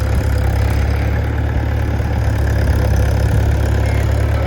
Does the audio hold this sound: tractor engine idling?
yes